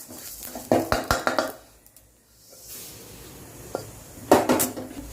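Whole spices for garam masala dry-roasting in a pan over a low flame, with bursts of rapid scraping and rattling strokes as they are stirred, separated by quiet pauses, close by.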